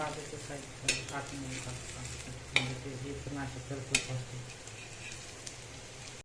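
Paneer tikka frying in oil in a pan, a steady low sizzle with a few sharp pops and a scrape partway through, and no talk over it.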